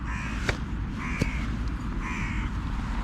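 Crows caw beside a lake, about three harsh, drawn-out calls spaced roughly a second apart, close and clear over a steady wash of outdoor background noise.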